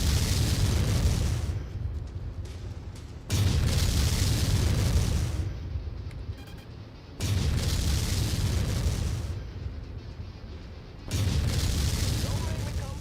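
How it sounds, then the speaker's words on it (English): Artillery bombardment in MechWarrior 5: three heavy, booming explosions land roughly four seconds apart, each a loud burst that rumbles and fades, with a voice talking between them. "Alright, commence bombardment"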